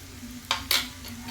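Ginger-garlic paste frying in a pan for a mussel fry, a steady low sizzle broken by two short bursts of stirring scrapes, close and moderately loud with no voices.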